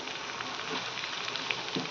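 Chicken pieces frying in a pan for chili chicken, giving a steady close sizzle and crackle of hot oil with no break or talking.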